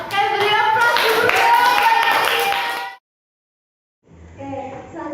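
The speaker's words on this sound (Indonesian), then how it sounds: "Oke, beri aplaus dulu." Classroom applause at an elementary school, a dense burst of children clapping for about three seconds, then a pause before a shorter second round of clapping.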